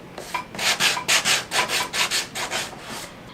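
Rhythmic strokes of sandpaper rubbing on a wooden Christmas tiered tray piece, about a dozen quick back-and-forth scrapes in a steady pulse, close and clear with no talking.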